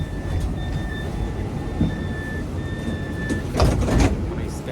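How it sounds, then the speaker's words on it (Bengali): Inside a tram with sliding doors, a steady rolling rumble runs throughout with a few short high electronic beeps. Louder clunks and rattles near the end suggest the doors sliding and shutting. "আমি উঠে গেলাম ট্রামের মধ্যে ট্রামের মধ্যে"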